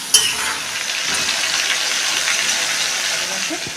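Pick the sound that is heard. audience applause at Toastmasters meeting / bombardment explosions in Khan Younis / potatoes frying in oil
potatoes frying in oil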